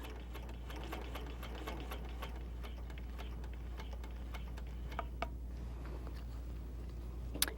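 A Handi Quilter longarm quilting machine stitching in the ditch along a ruler gives a quiet steady mechanical ticking and ratcheting over a low hum, with a few louder clicks near the end.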